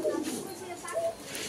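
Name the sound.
pigeon cooing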